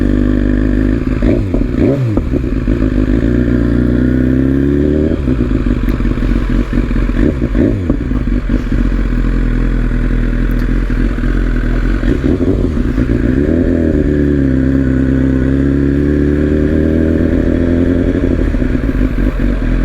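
A BMW S1000RR sport motorcycle ridden off-road growls loudly and close, its revs swelling and easing repeatedly with clattering thumps and scrapes from rough ground.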